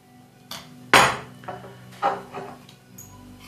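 Spoon stirring liquid honey into a homemade chocolate-hazelnut spread in a bowl, a few distinct clinks and scrapes against the bowl spaced out over a few seconds, close and fairly quiet, no talking.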